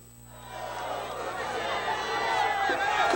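Grêmio supporters celebrate in Porto Alegre as the team arrives, a dense crowd roar of cheering and chatter that builds steadily and stays loud throughout.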